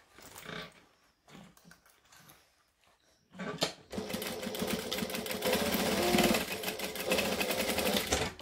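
A sewing machine back-stitches along the edge of a hexagon-shaped bag, starting with a few short stuttering bursts and then running in one loud, continuous buzzing stretch, close up.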